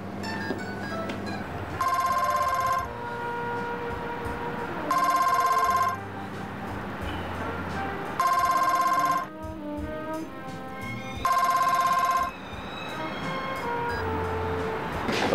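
An office telephone rings in four long electronic bursts separated by short gaps, loud and close, over quiet room background.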